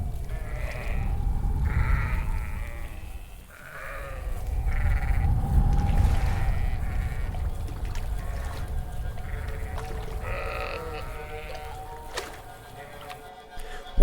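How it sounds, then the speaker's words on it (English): Many overlapping bleating calls from a herd of animals, some near and some farther off, over a steady low rumble of wind or movement. "A complex cacophony of calls organizes the entire herd into coordination."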